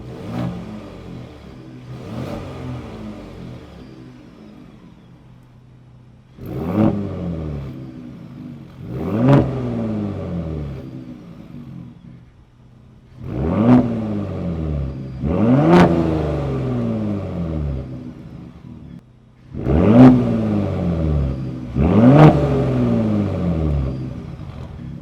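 Vehicle exhaust revved repeatedly while switching between normal, sport, Baja and quiet modes, giving about seven loud rising blips that swell and fall back over a steady low idle, with no talking.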